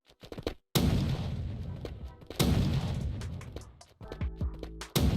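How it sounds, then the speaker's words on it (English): Repeated explosion booms from a mobile video game, several loud heavy blasts with rumbling tails, separated by short gaps and sharp cracks. "a satisfying boom for explosions"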